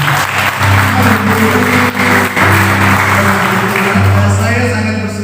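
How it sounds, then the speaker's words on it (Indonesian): Church congregation applauding together at a Christian sermon service, steady dense clapping over a continuous low organ-like drone, with brief dips and a voice mixed in. "Berikan dulu tepuk tangan bagi Tuhan"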